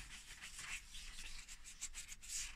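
Hand sanding of the primer on a Nissan Almera N16 wheel trim gives a soft, steady scraping rub, fairly close and quiet, running without pause and with no voices.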